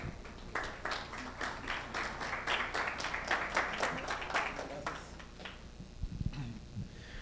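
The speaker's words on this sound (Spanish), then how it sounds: "Un aplauso, por favor." Audience applause welcoming a speaker at a conference on demand response regulation, a few people clapping in a loose rhythm for several seconds before it thins out and a voice begins near the end.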